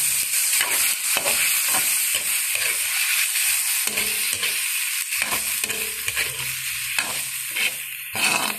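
Squid added to a hot pan and frying while a pork dish with udon and sotanghon noodles is cooked: a steady loud sizzle running throughout, broken by repeated stirring and scraping clatters, no talk.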